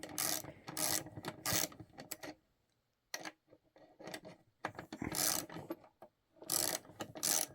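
Close, bright clicking bursts come from a ratchet being cranked on Hyper Tough Nano sockets. Short runs of rapid pawl clicks are broken by brief pauses, with a few quieter single clicks between them.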